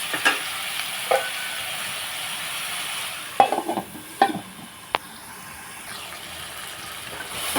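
Brinjal pieces cooking in a pan, a soft steady sizzle broken by a few sharp scrapes and clatters as a spoon stirs them.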